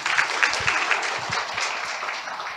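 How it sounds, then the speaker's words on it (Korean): Applause from a conference audience after a technical presentation at a Korean power generation conference, a dense steady clapping with a few sharper nearby claps, fading slightly toward the end. "서부발전 차장님께 큰 박수 부탁드립니다."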